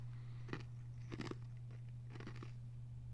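Ice cubes crunched between teeth in several bursts, close to the mic and fairly quiet, over a steady low electrical hum.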